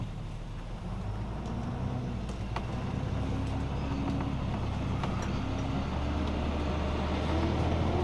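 A motorhome pulls away and drives off, its steady low engine rumble and road noise continuing evenly throughout, heard from inside the cab.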